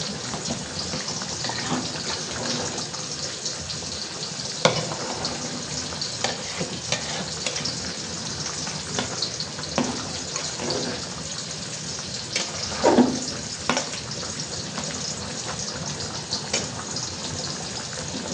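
Water goes into a pan of frying food while cooking, joining a continuous busy sizzle with bubbling, stirring scrapes and occasional clinks. The sound stays steady and close, with no speech.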